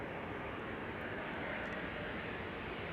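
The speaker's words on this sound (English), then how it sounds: "this is KLM flight 913 to Aberdeen in Scotland. Embraer, an E2 Embraer 195 actually." KLM Embraer E2 195 jet departing Amsterdam Schiphol on a sunny morning, a loud, steady broadband engine roar with no gaps, sustained and close throughout.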